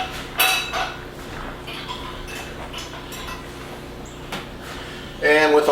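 A spoon clinks and scrapes against a bowl as sweet pasta salad is mixed, in a few scattered knocks with a louder burst of clatter at the end.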